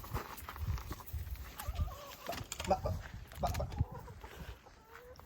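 Backyard hens in Denmark cluck softly in scattered short calls, close by but quiet, with rustling and faint low bumps between them.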